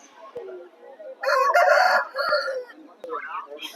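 A 2.5-month-old Abrasu rooster lets out a short, slightly rough crow up close, with a few soft clucks around it.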